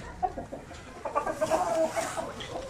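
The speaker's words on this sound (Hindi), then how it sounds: "ये सारी मुर्गियां अंडे देती हैं जी" Light Sussex hens clucking close by in a breeding flock, a steady run of short clucks and cackles that grows busier partway through, with no talk over them.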